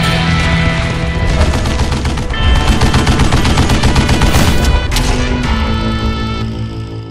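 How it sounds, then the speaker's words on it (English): A Gatling gun fires from a shielded tunnel in the Western shooter game Call of Juarez: Gunslinger, a loud, relentless rapid-fire rattle of shots that barely pauses and tapers slightly at the end. "Kid Curry opened up on me with a goddamn Gatling gun"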